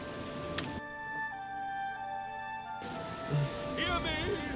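Steady hiss of in-game rain falling in the Oblivion video game, continuous through the whole stretch with musical tones and a voice-like sound mixed in over it.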